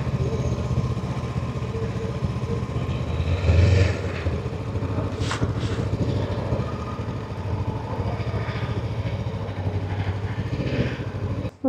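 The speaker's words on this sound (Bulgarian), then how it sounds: "Ето ги моторите." Several motorcycles idle together outdoors at a fuel stop on a women riders' day tour in Bulgaria, a steady continuous engine rumble with a brief louder burst midway, no talk.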